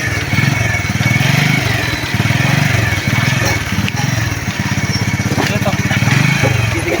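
A small motor engine chugs loudly and steadily up close with a rough, rapid pulsing and slight swells in pace, while voices talk faintly underneath.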